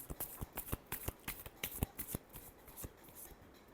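Tarot cards being shuffled by hand in a quick, uneven flurry of crisp riffling snaps and flicks, close and soft, with no one speaking.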